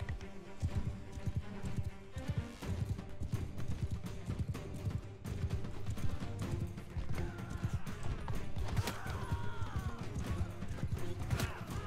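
Horse hooves clip-clop in a Mount & Blade 2 battle, steady galloping beats with occasional whinnies amid clashing combat noise.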